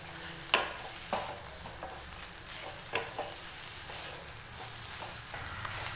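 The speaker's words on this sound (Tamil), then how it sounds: "புளி சேர்த்துட்டு வதக்கி விட்டாச்சு." Tamarind sautéing in a pan for a mint and coriander chutney, a steady soft sizzle with occasional sharp stirring clicks and scrapes from a spoon, close and alone with no talk.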